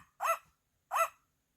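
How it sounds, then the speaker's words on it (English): A dog gives two separate, clear barks about two-thirds of a second apart, close and moderately loud against an otherwise silent background. "And Scooter agreed with a bark."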